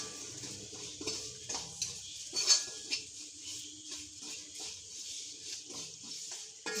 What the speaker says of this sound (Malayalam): നമുക്കിനി എല്ലാം കൂടി യോജിപ്പിച്ച് കൊടുക്കാം